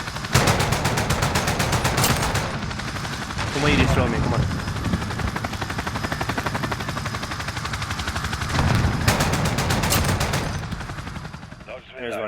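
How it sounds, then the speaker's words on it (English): Heavy automatic fire from a Galil rifle and Vector submachine gun in Warzone, long dense bursts with brief lulls, loud and close, while a player talks excitedly over the shooting. "that was a Galil and the Vector in action"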